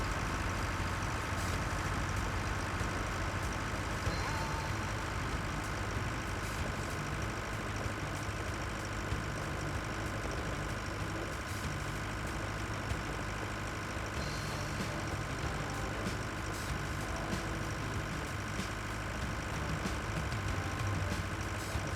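Tractor engine in the Pure Farming 2018 farming game drones steadily as it drives back to the shop, a continuous low idling rumble at constant level throughout, with no talking.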